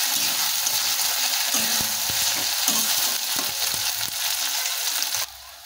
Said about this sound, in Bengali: একটু ভালো করে কষাতে হবে, যাতে না আদা রসুনের কাঁচা গন্ধটা না থাকে।